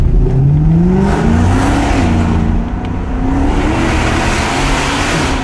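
A Mercedes-AMG car's engine and exhaust rev loudly up close on a city street, with a rising, droning growl that climbs and holds steady for several seconds.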